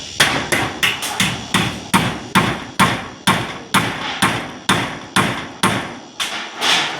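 Hammer blows drive nails while a house roof is being built, about sixteen sharp, loud strikes in an uneven working rhythm, each with a short ringing decay.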